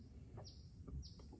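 Birds chirp near a Florida lake between Lake Monroe and Wekiva Island. Two quick, thin high calls sound faintly at a distance over a low, steady background hum.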